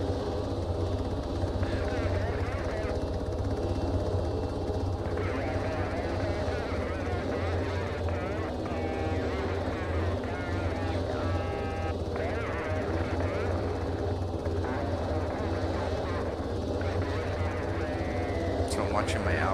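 A helicopter in the Arma 3 video game hovers and flies, a steady rotor and engine drone running continuously beneath someone talking throughout.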